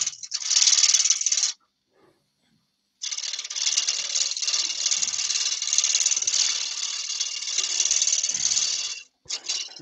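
A spindle roughing gouge cuts fence post wood on a lathe, a loud close rattling, chattering cut that stops briefly for about a second and a half, then resumes steadily before a short pause near the end.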